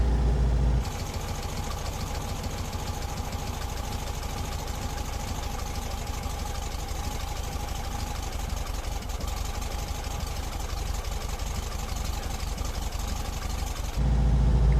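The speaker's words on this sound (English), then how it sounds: "It's so easy to turn on this engine." A Volkswagen Type 2 (T2) bus engine idles steadily for the whole stretch, a continuous low rumble with a slightly uneven, ticking mechanical texture and no voices.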